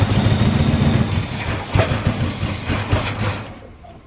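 A 1984 GMC Sierra 3/4-ton with a 454 big block V8, long abandoned and primed with gas in the carburetor, catching and running with a rough, low rumble close by before fading out.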